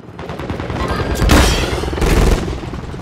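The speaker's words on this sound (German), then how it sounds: "Sie feuern ihn auf mich!" Gunfire in Call of Duty Modern Warfare 3 Hardpoint multiplayer, loud rapid bursts of automatic fire with booming reports, swelling in two heavy waves over a few seconds with no talk.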